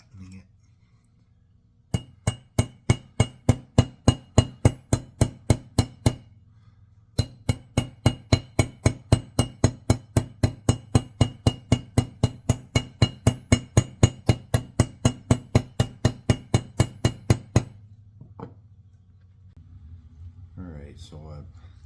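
Hammering to flatten metal tubing: dozens of sharp, evenly spaced ringing metallic blows at a steady quick rhythm, loud and close, with a short pause partway through, a few quieter strikes afterward, and a low hum underneath.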